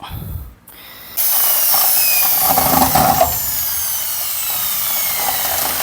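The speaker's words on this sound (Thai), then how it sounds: "สว่านมันแรงแรง" After a brief rustle, a power drill starts up and runs steadily and loudly at high speed, grinding continuously to the end.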